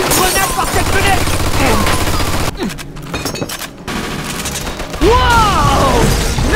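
Machine gun fire in the Mafia 2 video game, a sustained loud rattling burst that drops briefly then resumes, mixed with crashes and shouted voices.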